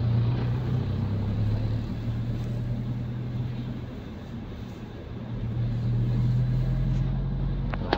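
Road traffic in slow, congested late-night streets, a continuous low rumble of car engines passing nearby with a steady drone rising and falling, faint voices underneath.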